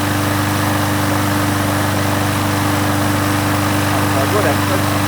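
A previously repaired Victa four-stroke lawn mower engine runs at a steady idle throughout, a constant close drone with an unbroken hum and no breaks.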